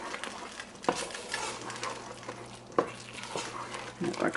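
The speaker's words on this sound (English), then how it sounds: "I'm going to stir these in" A spoon stirs shredded carrot, celery and broccoli florets into a thick homemade cheddar broccoli soup in a pot, with soft scraping swirls and a few sharp clinks against the pot, close and fairly quiet.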